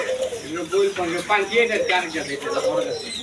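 Pankhi (fantail) pigeons coo in low, rolling bursts close by, with people talking over them throughout.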